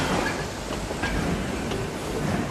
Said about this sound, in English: Get on this bloody train and get out of here.